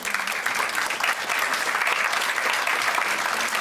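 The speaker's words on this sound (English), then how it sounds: "give them a round of applause for all the work they've done" At a human rights conference plenary session, an audience gives a panel a warm round of applause, a continuous even patter of many hands sustained for several seconds without speech.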